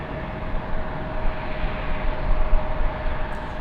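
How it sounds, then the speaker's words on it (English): A WestJet Boeing 737-700 arriving at LAX on a flight from Calgary, a steady broadband jet roar holding at moderate level throughout with a faint steady whine riding on top, no voices. "That's a 737-700."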